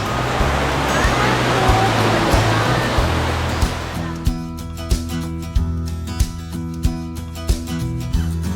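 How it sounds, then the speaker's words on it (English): A steaming hot spring waterfall in the Davao mountains gives a steady broadband rush of falling water that is loud and close, later joined by rhythmic mechanical thumps or clicks. "A steaming waterfall, it's gravity."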